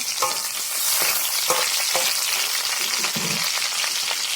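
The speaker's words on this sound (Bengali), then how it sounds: "একটু লাল লাল করে কাঁচা লঙ্কাটা ভাজা হোক" Green chillies frying in a hot pan, a continuous close sizzle with a few scraping stirs of a spatula, no voices.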